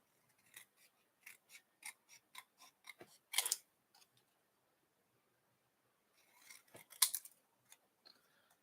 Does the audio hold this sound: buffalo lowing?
no